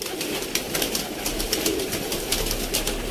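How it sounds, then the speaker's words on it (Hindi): A Sialkoti pigeon held in the hand gives soft, low cooing calls close by, with faint fluttering and shuffling of feathers, and no talk over it. "कबूतर हाथ च बहुत ज़्यादा तंग पै रहा दोस्तों"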